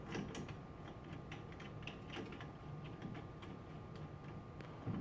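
A bit is tightened in a router collet with a wrench, making quiet irregular metallic clicks and ratcheting ticks over a soft background hum, close but faint, with no voices.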